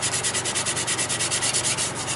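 Rhythmic rubbing and sanding against a wooden vase spinning on a lathe, a steady pulsing scrape repeating several times a second, close and continuous.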